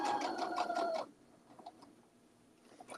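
A sewing machine stitches fabric pieces in a quick rhythmic mechanical rattle for about a second, then stops, leaving quiet room tone with a few faint handling clicks and taps.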